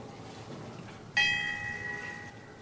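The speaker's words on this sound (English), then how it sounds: "That has to toll the bell for dead police officers" A single bell strike tolls in honor of fallen police officers, ringing out sharply and then decaying in a long, steady sustained tone over quiet background.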